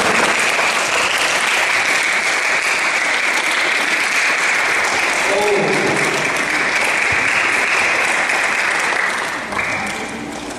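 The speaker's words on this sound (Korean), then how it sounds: "박수. 우리 축하드립니다." Schoolchildren and audience clapping at a school lecture on reading and debate, a sustained, loud burst of applause filling the hall before tapering slightly at the end.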